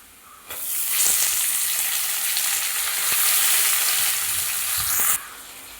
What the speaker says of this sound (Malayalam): നമ്മൾ കട്ട് ചെയ്ത് വെച്ചിട്ടുള്ള തക്കാളി കൂടി ഇട്ട് കൊടുക്കാം